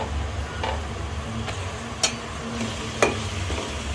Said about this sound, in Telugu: మసాలాని ఇందులో వేసి దోరగా వేయించుకోవాలి